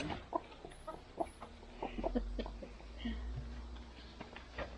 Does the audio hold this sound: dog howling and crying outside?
no